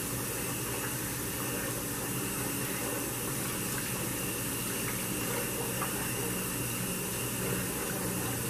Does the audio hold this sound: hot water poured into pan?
yes